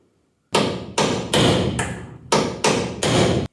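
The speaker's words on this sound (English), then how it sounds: "I'm going to try and just hammer them out." Hinge pins on the doors of a 1981 Holden WB ute being hammered out with a tool: seven heavy metallic blows in an irregular rhythm, close and loud, each ringing briefly before the next strike.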